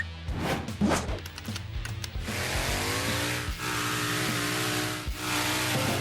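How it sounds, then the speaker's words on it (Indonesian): A car racing as fast as possible with its engine revving and rising in pitch, tires squealing under the roar, loud and sustained with brief dips in engine note. "Dia mengendarai mobil secepat mungkin"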